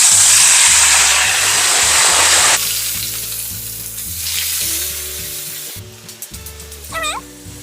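Fries sizzle loudly in hot oil previously used for frying chicken, a dense steady crackle that later settles into quieter bubbling, with a few faint clinks near the end.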